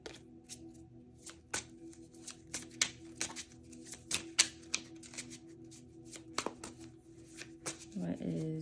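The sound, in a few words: cards being taken out and shuffled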